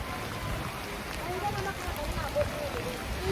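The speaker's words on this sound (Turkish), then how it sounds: "Yine yağmur bastırdı." Heavy rain pours down in an African village, a dense steady hiss of drops on surfaces that fills the scene at close range.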